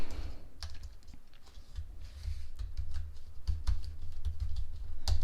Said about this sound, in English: it's for sure harder to type on this keyboard with long nails